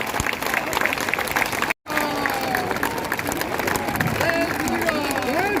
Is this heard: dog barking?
no